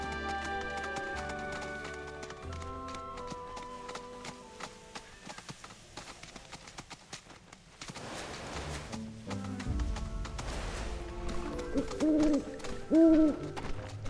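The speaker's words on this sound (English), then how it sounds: "I heard the hoot of the owl." An owl hooting in Final Fantasy VII Rebirth, a couple of soft hoots near the end layered over game music and the clip-clop of a running chocobo.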